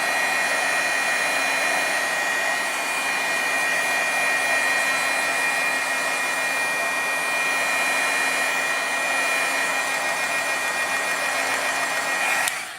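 A heat tool or dryer blows a steady, loud whir while drying watercolor paint made with watercolor sticks, running continuously and then cutting off abruptly at the end.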